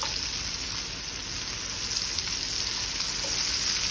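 Zucchini sautéing in oil in a pan, a steady close hiss and sizzle that runs evenly for a few seconds with no voices.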